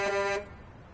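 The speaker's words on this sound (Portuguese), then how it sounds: "Buzina aqui, ó." A single loud, steady Scania truck horn blast with a buzzy tone, held for under half a second and then cut off, leaving a quiet background.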